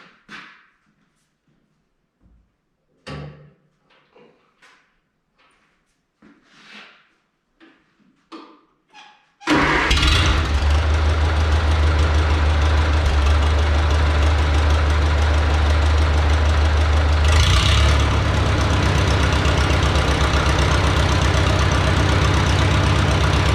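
A Farmall Super C tractor engine cranks and catches after a few quiet clicks and clunks, then settles into a loud, steady, knocking idle that runs on alone, with a brief surge partway through.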